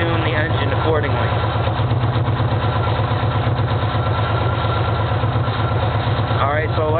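An engine idles steadily with a smooth, even rhythm while exhaust gas temperature tuning is carried out, the running note held throughout, with someone talking over it.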